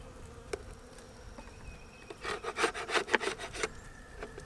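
Burr comb being scraped off wooden beehive frames, a run of rough rasping strokes, loud and close, with bees buzzing faintly in the background.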